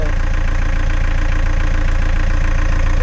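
A loud, steady boat engine drones close by with a rapid, even chugging throb and no letup.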